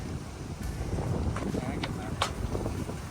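Strong wind gusts around an off-grid container home, buffeting the microphone with a rough, continuous rumble and a few sharp knocks.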